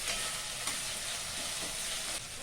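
Chopped onion and tomato fry in a pan for sambar with a soft, even sizzle and occasional stirring scrapes, fairly quiet and close, with no voices.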